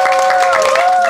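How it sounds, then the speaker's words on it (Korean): A stage audience at a Korean arts troupe singing performance gives loud, dense applause for a short burst, with a voice or sustained tone riding above the clapping. "지금까지 고생한 우리 단장님한테 큰 박수 한번 다시"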